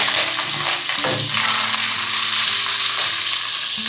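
Chilies hit hot oil over a high gas flame for a Chinese-style dish, loud and close, with a sharp burst of sizzling and frying that continues as a dense hiss. Faint clinks of stirring come through.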